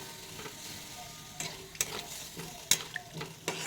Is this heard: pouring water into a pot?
no